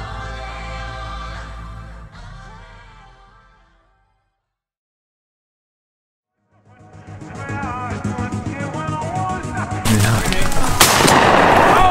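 Shotgun shots ring out on a duck hunt in a marsh, a loud blast bursting in near the end after music and a quiet gap.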